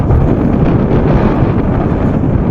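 Strong wind roars on the summit of Mount Bulusaraung, near the ATR 42-500 crash site, buffeting the microphone in a loud, steady rush with no pauses.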